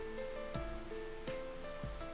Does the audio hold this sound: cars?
no